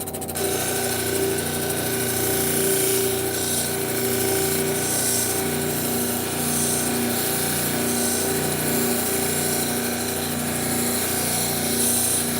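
A power tool grinds and polishes quartz rocks glued together at a fine grit stage, a steady, loud, continuous whirring drone running unbroken and close up with no talking.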